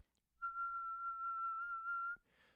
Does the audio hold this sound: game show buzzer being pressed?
no